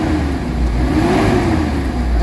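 Mitsubishi Adventure engine after XADO engine treatment, held at steady revs with a continuous mid-pitched hum and whir, loud and close, with no talk over it.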